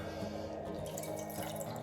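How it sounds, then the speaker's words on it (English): Buttermilk drips from homemade butter squeezed by hand, a steady wet trickle and patter of liquid falling close by, continuous and fairly soft with no talking. "So I'm just going to squeeze this. You can kind of see it dripping."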